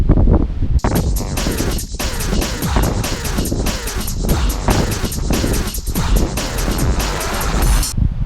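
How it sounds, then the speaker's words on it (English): Strong gusting wind on an exposed mountain trekking trail near El Chaltén, Argentina, batters the microphone in loud continuous rumbling buffets, with rapid pulsing flutters and roar dominating throughout. "I'm scared of the wind."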